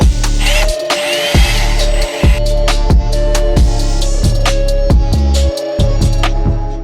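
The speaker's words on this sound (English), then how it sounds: "after a lot of drilling, this ball is finally able to come out" A power drill whines loudly in short repeated bursts, stopping and restarting several times, with metallic grinding close up, drilling out a ball from a 2005-2006 BMW E46 M3 differential.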